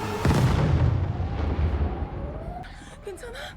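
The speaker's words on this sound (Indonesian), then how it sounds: "tiba-tiba ledakan terjadi" An explosion aboard an airplane in a film: a sudden heavy boom that rolls into a long decaying rumble, followed by faint fluttering and whistling sounds as it fades.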